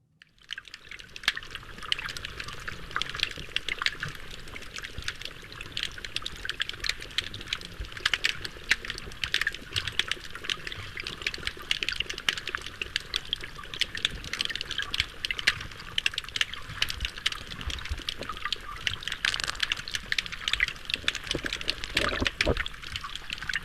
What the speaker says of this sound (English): these oyster reefs putting out hydrophones sound like this